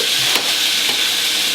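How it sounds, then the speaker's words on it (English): Chicken pieces sizzle loudly in a hot pan, a dense steady frying hiss with brief stirring scrapes near the start. "Love the sizzle."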